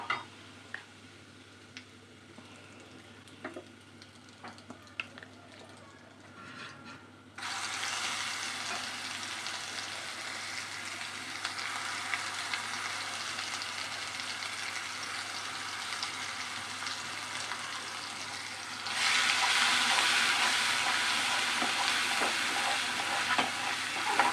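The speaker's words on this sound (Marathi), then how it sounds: "मसाला गरम मसाला आहे हा त्याला छान फिरवून घेणार आहोत" Garam masala frying and being stirred in a pan: a continuous sizzle that jumps louder twice as the heat picks up, with faint scrapes and ticks of stirring throughout.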